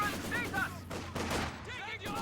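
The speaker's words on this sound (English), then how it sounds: "Maxim firing away." A Maxim machine gun fires in Company of Heroes 2, with bursts of crackling gunfire amid a busy battle soundscape, fairly faint and mixed under a voice talking.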